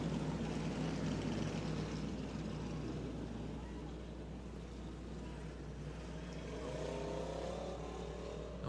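A steady, droning race car engine roars at Black Hills Speedway, with the number 49 car on track, continuous and moderately distant, under a voice talking over the noise.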